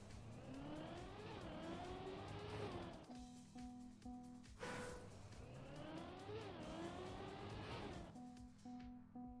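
A TrackMania race car engine revs up through rising gear shifts, drops back and climbs again in two long accelerating runs, loud and continuous with no talk.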